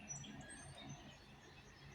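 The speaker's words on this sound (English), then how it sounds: "You hear the birds? They're praising God." Birds chirp faintly outside near a home porch, scattered small tweets over a steady background hiss and low hum, with no one speaking.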